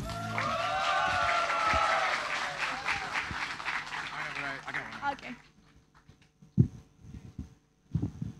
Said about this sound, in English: Give a big applause to James Chun!